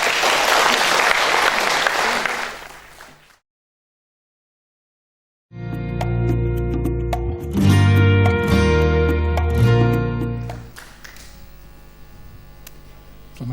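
Loud audience applause welcoming a colleague from Australia at a conference, a dense burst of clapping that fades out after about three seconds, then a gap of silence before louder, tonal hum and noise.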